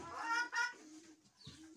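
Chickens, including young bantam-type hens and small roosters, cluck in two strong bursts early on, then trail off into quieter scattered calls with a brief sound near the end.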